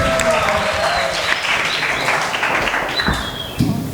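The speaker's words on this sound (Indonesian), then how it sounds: "Boleh tepuk tangan untuk ketiga narasumber" At a school culture and language week event, an audience applauds three speakers with a dense, lively burst of clapping that gradually tapers, while voices talk over it.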